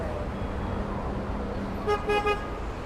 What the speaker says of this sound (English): Ah, honking. Would be Paris without honking.